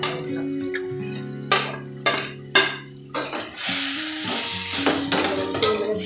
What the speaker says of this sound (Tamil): இந்த வதக்கி வச்சுருக்க வெண்டைக்காயை நம்ம ஆட் பண்ணிக்கலாம்.